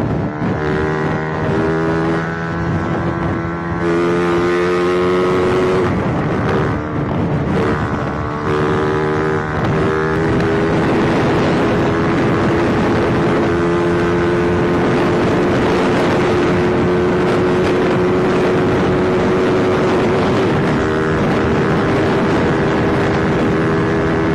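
A Rusi Flash motorcycle fitted with Honda clutch lining, carrying a passenger at around 120 km/h, with a loud, steady engine drone and rising whine mixed with constant rushing wind over the microphone.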